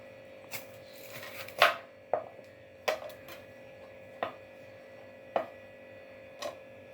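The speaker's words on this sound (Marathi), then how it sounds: "मग त्याला उभं असं कापायचं मधून." A knife cuts bitter gourd lengthwise on a board, about seven sharp separate knocks spread unevenly over several seconds against a quiet background hum.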